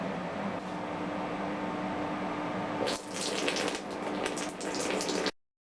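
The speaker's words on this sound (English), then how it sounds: "Y'all see how I was trying to hold back on that pour, because that's a brother's Kool-Aid" Kool-Aid is poured into a glass as a steady, close liquid rush that brightens and splashes more toward the end before cutting off abruptly, with no talking.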